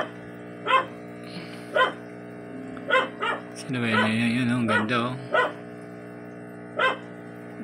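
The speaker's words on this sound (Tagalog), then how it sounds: "nag-iingay na naman yung aming aso." A dog barks in short, separate yaps spaced a second or so apart, with a longer whiny bark in the middle, while a person talks nearby.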